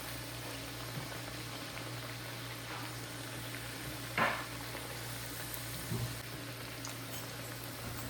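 Bajra vadas deep-frying in a pan of hot oil give a steady, soft bubbling sizzle throughout, with a couple of brief louder clicks partway through and no talking.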